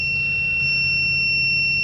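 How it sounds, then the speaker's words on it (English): Alarm on the control panel of a Sany 2800 machine, a steady, high-pitched electronic tone held without a break over a low mechanical hum. "See if we can shut the alarm off."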